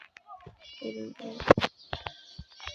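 Cat meowing in the Scary Teacher video game, several short, clear mewing calls up close, with brief game sounds scattered between them.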